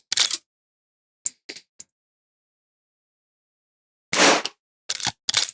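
A Mare's Leg lever-action gun firing short cartridges at a 50-yard target: sharp, loud single reports separated by pauses, first one shot, then a quick cluster of three, then three more near the end.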